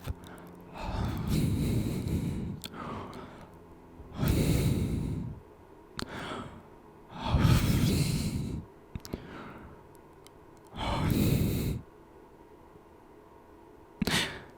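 Heavy, drawn-out breaths come close to the mic in five long bursts with short gaps between them, each a loud rush of air that rises and falls away. No one speaks.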